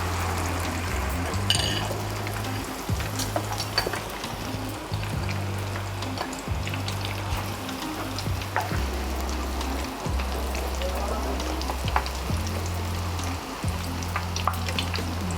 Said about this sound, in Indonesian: sampai tidak terdengar bunyi mendesisnya, berarti si kremesan ini sudah matang